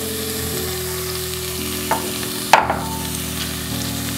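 Red and yellow capsicum with green beans hit hot oil in a pan, a steady sizzle and hiss with a stirring scrape and a couple of sharp clinks, close and loud with no talk.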